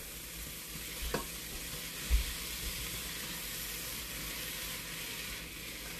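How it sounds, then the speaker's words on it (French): Spices and vegetables stirred in a hot pan for a seafood crêpe filling give a soft, steady sizzle with a faint scrape of the utensil, quiet and alone. "On mélange les épices avec les légumes."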